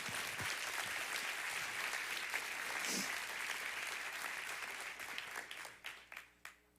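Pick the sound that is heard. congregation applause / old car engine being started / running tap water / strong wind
congregation applause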